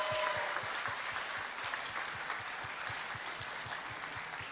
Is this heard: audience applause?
yes